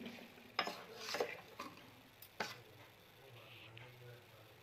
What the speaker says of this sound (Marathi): आणि हे मिक्स करून घेते।